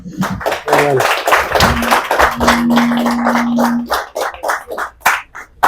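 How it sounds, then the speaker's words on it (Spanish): A conference audience applauds the speakers with brisk, close clapping from many hands, and a voice speaks over the start before the applause thins into scattered claps. "Les damos un fuerte aplauso, por favor, a los conferencistas"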